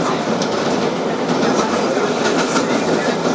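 A Kawasaki R-188 7 local subway train rolls toward Flushing–Main Street, a steady loud rumble with rhythmic wheel clatter and faint squeals, heard from inside the car with no talk.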